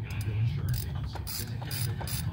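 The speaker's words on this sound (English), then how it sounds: "Then you take your ratchet, tighten the spark plug back up." A ratchet wrench tightens a spark plug, giving a rapid close clicking pawl rattle in short bursts, alone with no talk.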